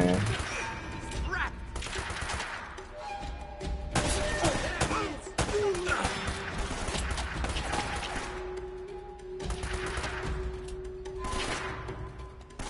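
Gunfire in the video game Uncharted: bursts of shots and automatic fire crackle through a busy, loud battle mix, with crashes and thuds between volleys and no speech over them.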